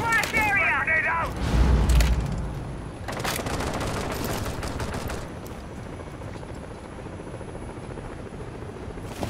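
A grenade blast in the shooter game Rainbow Six Siege: a heavy low boom near the start, followed by scattered gunfire and a rumbling hum, with a voice talking over parts of it.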